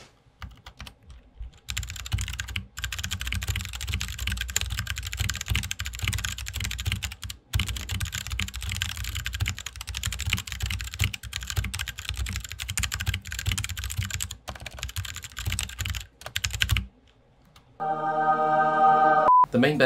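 Fast typing on a computer keyboard makes a dense, rapid clatter of keystrokes that runs for most of the stretch with brief pauses, followed by a short tonal electronic chime near the end.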